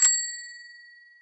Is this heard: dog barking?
no